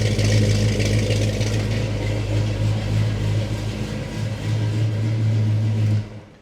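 A carbureted engine in a 1987 Chevrolet K10 truck runs steadily at idle inside a very cold building, giving a low, even rumble for several seconds before cutting off abruptly near the end.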